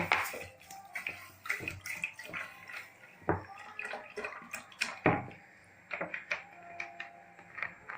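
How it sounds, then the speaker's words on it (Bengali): Water poured into about two cups of sugar to make syrup, heard as close, uneven splashing and pouring bursts with small knocks and drips, faint overall. "আর এর মধ্যে আমি জল ঢেলে দেব।"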